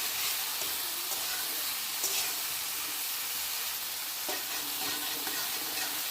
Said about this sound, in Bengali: এদিকে আমার ভাজা হয়ে যাচ্ছে।